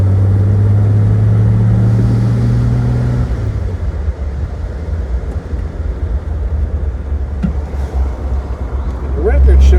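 A classic Jaguar XKE sports car with a rebuilt engine drones steadily from inside the cabin, its low engine tone shifting as it changes gear and swelling again near the end.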